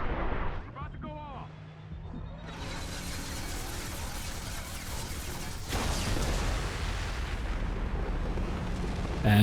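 A Cain heavy weapon fires in Mass Effect 2, a rising whine and mechanical clicks building into a massive booming blast, then a long, loud rumbling roar with a second surge of rumble.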